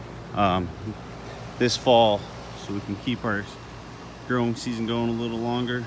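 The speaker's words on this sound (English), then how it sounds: "sorry about the noise. Walking past our AC unit here." A steady mechanical hum of an outdoor air conditioning unit runs throughout, with a person talking over it in short phrases.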